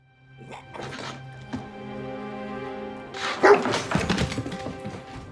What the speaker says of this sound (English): The dog's still alive?